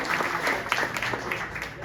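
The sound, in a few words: round of applause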